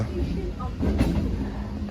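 A passenger train rolls into Ranaghat station with a low, steady rumble and faint rattle, heard from inside the carriage with murmuring voices in the background.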